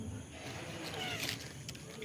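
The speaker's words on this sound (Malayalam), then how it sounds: "ഒരുപാട് പൂച്ചകളുണ്ട് ഇവിടെയൊക്കെ." Cats meow a few times at a moderate distance amid a busy, noisy outdoor background, with some brief higher cries rising over low rumble.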